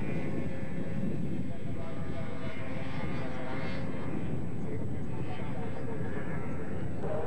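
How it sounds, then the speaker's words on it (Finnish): A racing snowmobile with a Castrol livery climbs a hill-climb course at a 1998 snowmobile race, its engine droning loudly and steadily throughout under a commentator's voice. "Niko Korsumäki tulee tässä vauhdikkaasti numero 70 Castrol skiduullaan."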